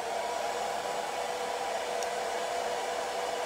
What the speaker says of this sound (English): So now I have to dry it up again, and I'm using my Loud Dryer.